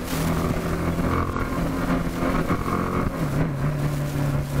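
A BMW G310 GS adventure motorcycle's engine drones steadily while on the move during a test ride, a close, continuous hum with wind rush and slight shifts in pitch.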